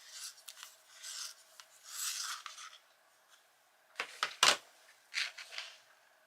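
A colored pencil being sharpened for colouring frogs and snails: several short, dry scraping rasps in two bursts, quiet and close, with gaps of silence between them.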